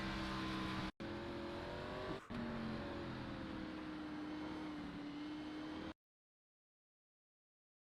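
A race car engine drones steadily at Martinsville in a virtual racing game, heard from behind the car with a sustained tonal hum and two brief dropouts, then cutting to silence.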